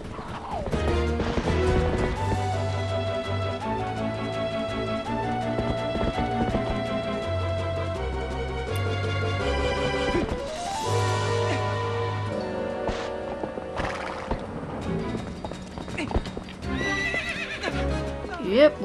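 A horse in the video game Zelda: Twilight Princess neighs and gallops with clip-clop hooves over a busy layer of game music, with the sounds coming and going across the stretch.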